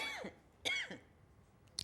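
Someone speaking at a church seminar clears her throat and gives several short, quiet coughs in separate bursts, close but soft, with faint breathy vocal sounds between them.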